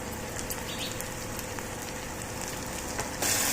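Freshly ground ginger garlic paste frying in a pan for a fenugreek curry, a steady soft sizzle and crackle throughout with a brief louder hiss near the end, no talk.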